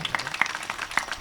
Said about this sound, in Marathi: एकदा समितीसाठी आणि आपल्या संपूर्ण ग्रामस्थांसाठी जोरदार टाळ्या.